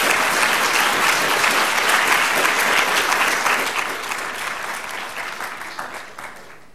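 An audience applauds to welcome Sir Michael Marmot to the podium at a health inequalities lecture: dense, sustained clapping that holds steady, then gradually tapers off.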